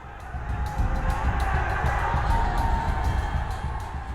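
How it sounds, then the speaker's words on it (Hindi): Agitated crowd at a police barricade in Nanded, Maharashtra, a dense wash of shouting, whooping and commotion that swells and stays loud and steady throughout. "भीड़ के शोर से और हंगामे से साफ जाहिर हो रहा है कि ये भीड़ किसी सूरत में नहीं मानेगी"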